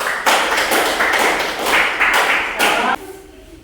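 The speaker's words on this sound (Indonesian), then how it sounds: "kita memberikan tepuk tangan untuk kelompok 1" Classroom applause for a student group after their presentation, a dense burst of clapping lasting nearly three seconds before cutting off into a quieter room.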